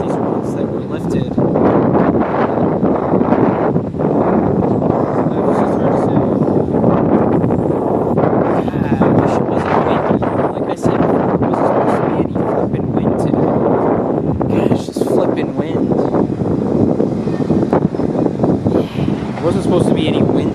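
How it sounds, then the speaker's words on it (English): Strong gusty wind buffets the microphone throughout, a loud continuous roar with rumbling low-end surges, recorded trackside while waiting for a train. "Wasn't supposed to be any wind today. Like, go away."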